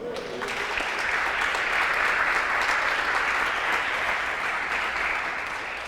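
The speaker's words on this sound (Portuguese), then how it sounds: "Será que tem algum influenciador aqui por um mundo melhor aqui para dar um aplauso a Jesus?" Congregation applause in a Portuguese-language church service, a full, sustained roar of many hands clapping that swells in after a brief voice and holds steady, close and loud, easing slightly at the very end.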